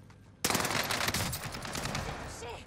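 Automatic weapon fire in the video game Warzone bursts in loud and close, a rapid, continuous stream of shots that keeps going to the end.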